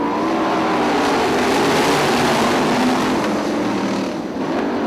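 Sprint cars start an 8-lap heat race on the dirt oval at Ionia Raceway Park, a loud, continuous roar of many engines revving hard together as the field accelerates away after the green flag.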